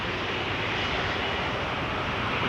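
An Endeavour Air RJ900 regional jet flying as Delta Connection roars loudly and steadily at Toronto Pearson, a broad, continuous engine rush with no talking.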